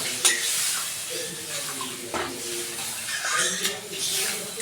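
Eggs and potatoes sizzling and crackling in a hot pan, with occasional scraping stirs cutting through the steady hiss.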